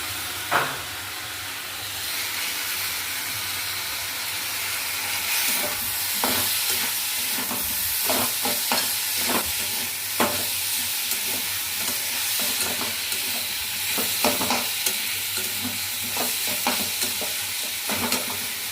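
Ginger-garlic paste frying in a pan, with a steady loud sizzle and hiss and repeated scraping clicks of a spatula stirring throughout.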